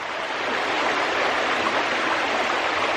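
A creek flows steadily, a dense broadband rush of water that stays loud and even throughout with no voices, heard on a trail ride west of Coffs Harbour on a Suzuki DR650.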